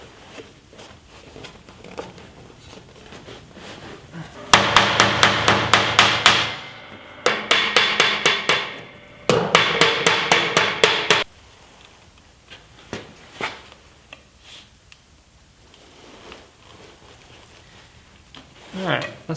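A metal switch panel being hammered flat in a workshop: three loud bursts of rapid, evenly spaced hammer blows, close up, separated by short pauses, with quieter handling knocks before and after.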